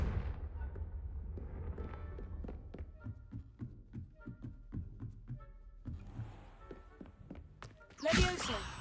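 Confringo fire spell in Hogwarts Legacy, a sharp burst of bright crackling blast near the end, after a run of thuds and footstep-like taps in play.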